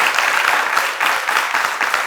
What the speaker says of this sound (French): je voudrais qu'on vous applaudisse très fort d'abord